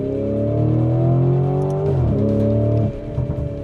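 A powerful Lamborghini Urus sports SUV engine revs up in manual mode with rising harmonic tones, climbs and shifts, then drops off abruptly near the end; loud and close, no voices.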